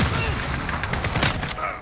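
CR-56 AMAX rifle in the video game Modern Warfare, rapid gunfire cracking amid a dense barrage of battle noise, with several sharp reports over a brief, loud stretch.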